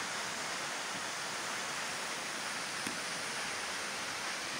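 The Cascata do Herval waterfall in Santa Maria do Herval, Brazil, roars steadily nearby, a dense and unbroken rush of falling water with no voices.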